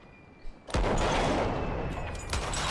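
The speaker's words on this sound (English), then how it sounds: "massive barrage. And the second barrage coming in." A naval gunfire barrage in a Great War video game booms in abruptly after a short quiet start, then rolls on as a loud, continuous rumble of distant shots for the rest of the clip.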